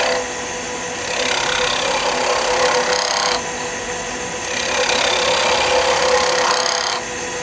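A skew chisel cuts wood on a lathe while a screwdriver handle is being shaped, giving a steady scraping, hissing cut that swells in two long passes and eases between them, close and loud.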